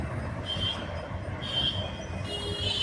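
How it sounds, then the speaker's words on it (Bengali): A metro train rumbles past at Garia in a steady, continuous roar, with faint high-pitched wheel squeals rising now and then. No one speaks. "মেট্রো রেল যাচ্ছে"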